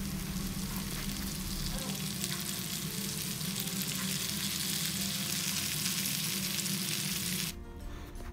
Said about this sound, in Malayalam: ആവശ്യത്തിന് ഉപ്പിട്ട് കൊടുക്കാം തക്കാളി ഇട്ട് കൊടുക്കാം